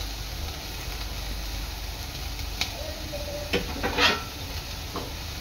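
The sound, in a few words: vegetable filling being stirred and sautéed in a pan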